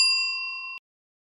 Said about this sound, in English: Subscribe. Hit the notification bell.